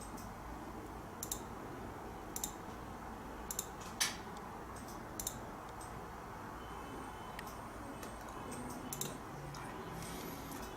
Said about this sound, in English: You click this button to increase the fiber container.